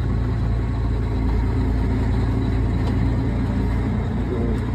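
A 2004 Case IH STX450 tractor runs with a steady, deep engine drone and rumble heard from the cab, constant and loud with no change in pace.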